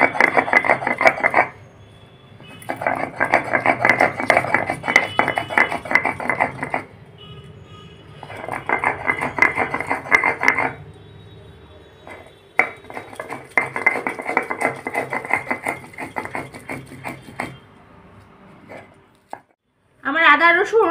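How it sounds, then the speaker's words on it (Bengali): Rhythmic scraping and grinding of ginger and garlic on a shil stone, in repeated bursts of rapid strokes separated by brief pauses, close and fairly loud with a short clatter at the end. "এবার ভালো করে একটু থেতো করে নিচ্ছি, নিয়ে আদা আর এই রসুন আমি বেটে নেব"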